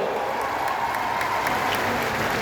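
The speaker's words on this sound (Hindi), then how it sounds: "तालियों की गड़गड़ाहट से उनका स्वागत हो।" An audience at a Gwalior event with Home Minister Amit Shah, tied to the Rajmata Vijayaraje Scindia Air Terminal expansion, applauds to welcome him. The clapping is dense, steady and sustained throughout.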